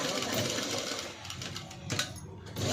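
A sewing machine stitches around the neckline of a patchwork blouse, a steady continuous mechanical whir running close and fairly loud for the whole stretch.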